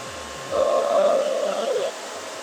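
A handheld hair dryer blows steadily on short pixie-cut hair for about one and a half seconds, a loud, even whoosh that starts and stops cleanly over a quiet room.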